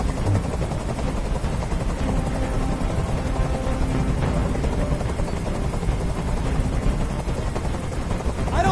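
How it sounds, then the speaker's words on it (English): A helicopter hovers overhead in a scene from the video game Detroit: Become Human, producing a steady, loud rotor roar that fills the whole stretch without letup. "I can't stand that noise anymore. Tell that helicopter to get out of here."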